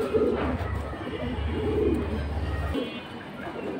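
Pigeon pairs cooing during a pigeon sale, low soft coos repeating under a steady rumble of background noise for most of the clip.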